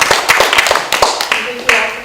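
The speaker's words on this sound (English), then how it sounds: "Well, a big round of applause for Kim." Sparse hand claps from a small audience of parents at an evening school meeting, about a dozen separate sharp claps in an uneven rhythm, close and moderately loud, fading out after two seconds.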